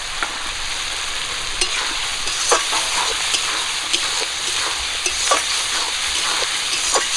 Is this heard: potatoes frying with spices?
yes